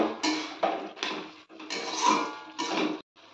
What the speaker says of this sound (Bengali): এটা একটু নেড়ে নেব